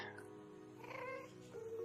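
A few faint video game cat meows rise over a low, steady background hum, quiet and slightly distant.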